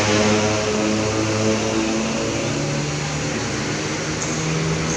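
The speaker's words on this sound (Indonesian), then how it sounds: "Ini lagi ngidupin mesin ya, sambil ngidupin AC." A loud, steady engine idle with a low droning hum, blended with the continuous whoosh of an air-conditioning fan.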